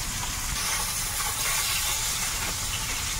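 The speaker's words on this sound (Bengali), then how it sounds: "মাছ কিছুটা ভাজা হয়ে গেছে, কিছুটা হচ্ছে, কিছুটা এতে কাঁচা" River fish frying in a pan over a fire outdoors in the Sundarbans, giving a steady, continuous hiss and sizzle of hot oil at close range, with no voices.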